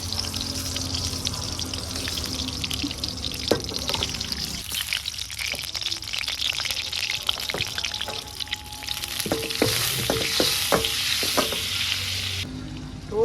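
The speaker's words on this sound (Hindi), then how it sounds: "फ्राई पैन हमारा गर्म हो गया। अब इसमें डालेंगे हम थोड़ा सा घी।" Paneer frying in ghee in a hot frying pan, a loud continuous sizzle with occasional stirring scrapes and clicks.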